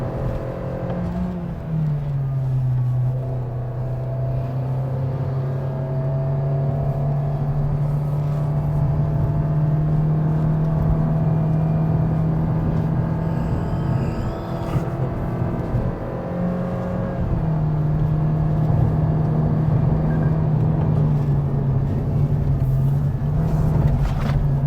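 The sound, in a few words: 2023 Toyota Vios engine climbing Genting hill, automatic upshift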